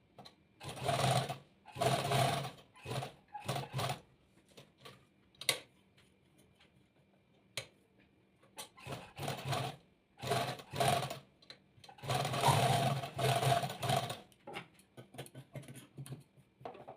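A sewing machine stitches along a V-shaped cut in a petticoat during a tailoring lesson. It runs in close, whirring bursts, stopping and starting several times with quiet gaps between.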